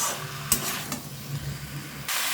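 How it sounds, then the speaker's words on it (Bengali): Masala stir-fried in a pan over a medium gas flame, continuous sizzling broken by a few sharp spatula scrapes against the pan, close and moderately loud with no voices. "এবারে এখানে ভালোভাবে গ্যাসটা মিডিয়ামে রেখে ভালোভাবে আমি এটা কষিয়ে নেব"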